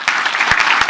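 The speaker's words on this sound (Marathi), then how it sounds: "सगळ्यांनी एकदा जोरदार टाळ्या वाजवा." Audience at a Marathi kirtan clapping loudly and steadily together, a dense burst of applause filling the space close by.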